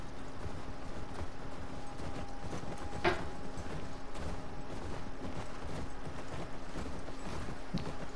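Horse hooves in The Last of Us Part II, a steady, even clip-clop at moderate distance over a soft ambient background, with no talking.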